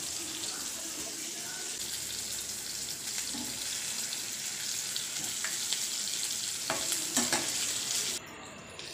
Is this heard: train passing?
no